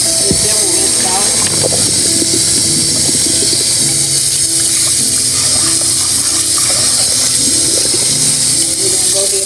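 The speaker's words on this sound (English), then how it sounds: "our noodles are ready. We're gonna take them over here. Get them rinsed out." Cooked macaroni noodles rinsed in a kitchen sink under a steady running-water rush, loud and continuous throughout, with clattering handling noises underneath.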